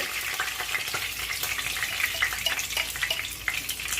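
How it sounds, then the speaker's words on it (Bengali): Curry leaves and cumin seeds crackle and sizzle in hot oil, a steady bright frying hiss with scattered sharp pops throughout, close and continuous with no talking. "দেখো কারি পাতা দিয়ে দিলাম তেলে আর একটু জিরে ফোড়ন দেব"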